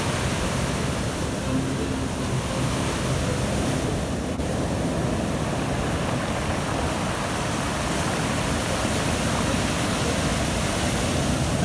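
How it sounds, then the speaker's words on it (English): Sea waves churned up by a January windstorm on the Inside Passage off Vancouver Island, a loud, continuous roar of surf and wind filling the whole stretch with no letup and no voices. "Ah, the power of the sea."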